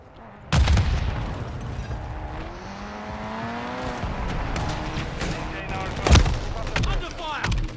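Gunfire in Modern Warfare 3 on PS5, a sharp loud blast opening a stretch of battlefield noise with vehicle rumble, then another heavy shot later, under game voices.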